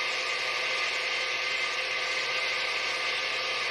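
An electric mixer beats egg whites and sugar toward stiff peaks, a loud, constant whirring drone with no change in pitch and no voices.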